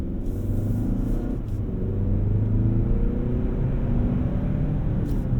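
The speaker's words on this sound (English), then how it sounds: "It is a lot more fun and engaging to drive than the Ridgeline for sure." A 2025 Hyundai Santa Cruz pickup driving on a road, with a steady engine rumble and road noise that swells slightly as it accelerates, close and continuous.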